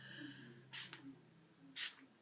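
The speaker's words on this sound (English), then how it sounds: "I just spray it in like a crosswise thing" Mattifying setting mist sprayed onto a face in two short, close hissing bursts with a quiet pause between them, no talking.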